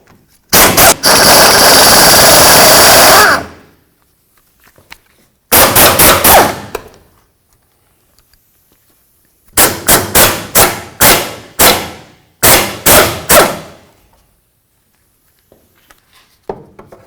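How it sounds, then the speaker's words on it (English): Mounting nuts on the fuel tank bracket of a 1988-2000 Chevy C/K1500 pickup being removed: loud, close bursts of rapid mechanical hammering, one long burst followed by several shorter ones separated by silence. "Remove all the nuts, and then we can get this out of the way."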